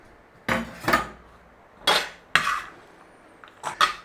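Chopped onion and garlic tipped into a bowl, landing in a few separate bursts of clatter and scraping against the dish, close and fairly loud with short pauses between.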